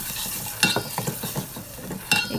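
A ground masala paste sautés in hot oil for a Koli-style fish curry. A spoon stirs it in short, repeated scraping strokes over a continuous close sizzle, with a couple of sharper clatters.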